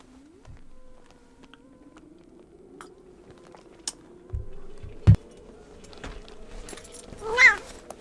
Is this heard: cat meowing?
yes